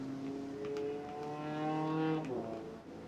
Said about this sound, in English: Definitely audio from the cars on track.